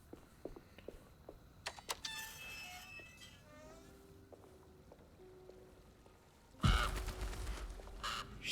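A crow caws several times in a quiet outdoor scene in the Alone in the Dark video game, faint and distant against insect-like buzzing, followed by a louder burst of noise near the end.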